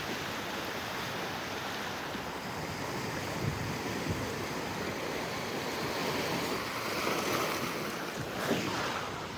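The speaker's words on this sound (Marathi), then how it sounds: "हे बघा वारा जोरात सुटलाय." Strong wind buffets the microphone while waves wash onto a beach near Ratnagiri, a loud, continuous roar of surf and gusts without speech.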